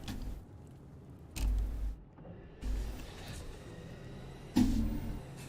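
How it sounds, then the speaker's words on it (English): Low mechanical whooshes and hums of a solar starship in No Man's Sky, with several broadband bursts as it lands and its sails fold shut, ending in a louder thump. "That's the sound of a solar ship."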